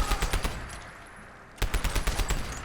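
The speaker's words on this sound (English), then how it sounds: "You can see her cranking the gun." A hand-cranked Peppermill crank gun fires in Fallout 4 in two rapid bursts of evenly spaced loud shots, separated by a short pause, with no voices.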